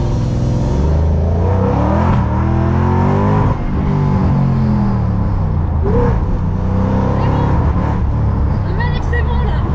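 A car of more than 200 horsepower accelerates hard, its engine roaring loudly and steadily throughout with rising revs, while people talk over it inside the cabin.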